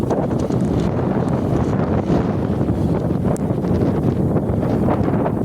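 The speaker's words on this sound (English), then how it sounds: "There's the wind coming from the opposite direction." Strong windstorm gusts roar and buffet the microphone continuously, a loud, dense rushing with no pause.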